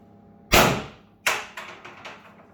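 FSC airsoft pistol fitted with a Grimberg barrel, Grimberg compensator and 8-gram magazine fires two loud, sharp cracks followed by three quicker, fainter pops, each decaying fast, with no voices.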